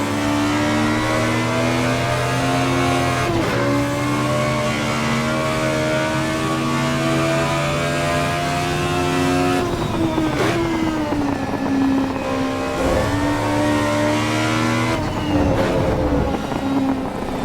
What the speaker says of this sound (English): isn't it great to have a car that you keep hitting the rev limiter because it sounds so damn good?